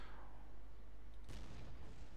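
A gunshot in the online shooter game Red Crucible Firestorm bursts out as a single sharp, booming report about midway, standing out over a steady background hiss and then decaying.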